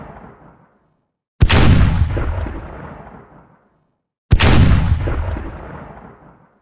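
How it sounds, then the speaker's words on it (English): Two loud, close 37mm KwK 36 tank gun shots, the cannon fitted to the Panzer III, from the War Thunder game, each a sharp blast followed by a long fading rumble, with silence between them. "now we're going to hear the 37mm KWK-36, and this gun was equipped on the Panzer III's"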